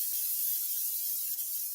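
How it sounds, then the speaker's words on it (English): Cooking spray hisses into a frying pan in one continuous, even burst of close, bright aerosol noise with no talking. "I'm going to spray my pan."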